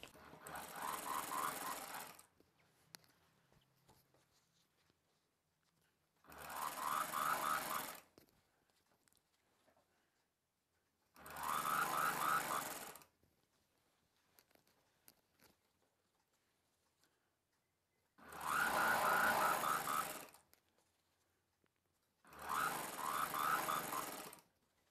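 A sewing machine stitches elastic into a palazzo pant in five separate bursts of rapid mechanical chatter, each a couple of seconds long, with quiet pauses between them.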